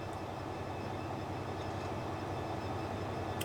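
A Class 66 freight locomotive in Transport Fever 2 rumbles steadily with a continuous low engine drone and a faint rolling rail noise, even and unbroken throughout, with no voices.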